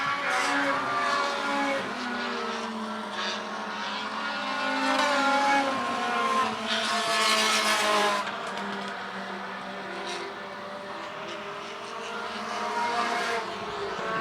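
Race cars roar around a track in close competition, engines rising and falling as they pass, with a louder surge of cars sweeping by midway and a continuous dense racing din.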